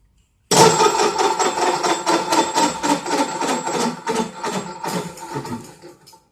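A cylinder boring machine (korter) for motorcycle bore-up work runs its spindle, giving a steady mechanical whirr with rapid rhythmic ticking and clatter. It starts abruptly, stays loud and close, and runs about six seconds with no talk.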